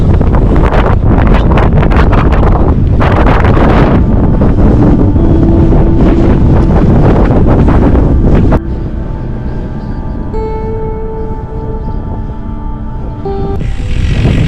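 A strong headwind on an ultra-distance cycling ride roars and buffets loudly across the microphone, constant and gusting for the whole stretch, with a slightly calmer patch toward the end.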